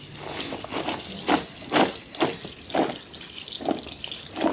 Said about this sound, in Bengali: তাই দেখো বুবলা এখন ধুয়ে দিচ্ছে।